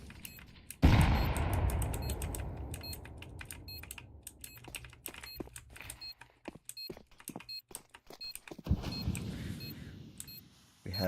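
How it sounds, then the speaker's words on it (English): Gunshots fire through a smoke grenade in a CS:GO ESEA Open match while the bomb is planted, sharp game-audio cracks coming in bursts over quick keyboard clicking, with a loud blast early on. "A little bit of shots through the smoke."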